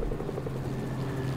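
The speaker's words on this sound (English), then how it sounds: "he's out of the helicopter" A helicopter in Fortnite whirs with a steady, close rotor chop and a dense low engine drone, heard alone.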